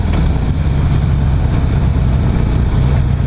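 A 2016 Harley-Davidson CVO Pro Street Breakout motorcycle engine runs steadily close by, a deep low rumble that holds an even idle-like throb throughout with no talk over it.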